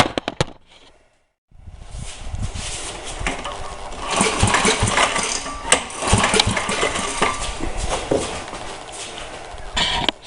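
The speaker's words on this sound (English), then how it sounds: "So we've got the motor running" A John Deere 440G generator's motor runs at a steady idle after a brief silence, a close, rumbling mid-pitched drone with an uneven, knocking pulse throughout.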